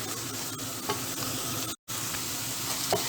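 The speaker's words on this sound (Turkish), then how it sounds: "Salçam iyice kokusu çıkana kadar kavurmam gerekiyor." Tomato paste sizzles and crackles steadily as it is stir-fried in a pan, a close, continuous frying hiss with a brief break partway through and soft stirring scrapes.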